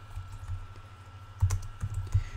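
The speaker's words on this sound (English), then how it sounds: "I'm having a hard time right here typing this in." Someone types on a computer keyboard while playing Minecraft, with soft irregular key taps and a few sharper louder clacks, heard close against a faint steady background hum.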